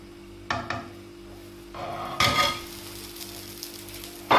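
Cake batter cooking in oil in a pan gives a soft, steady sizzle, with a few scrapes and clinks of a utensil against the pan.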